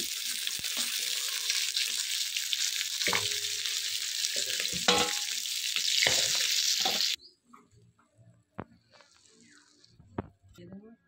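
Katla fish frying in hot oil in a pan, a steady loud sizzle for about seven seconds that then stops abruptly, leaving quiet clinks and faint kitchen handling sounds.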